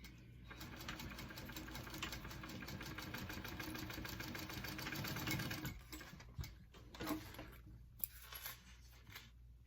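A sewing machine stitches the gusset of a mini backpack in a steady, rapid mechanical chatter for about five seconds, then stops into faint clicks and handling noises as the fabric is moved.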